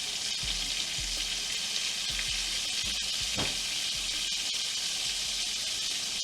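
Butter sizzles in a frying pan while salmon patties cook: a steady, close, crackling fry with a continuous hiss and occasional soft pops, with no voices.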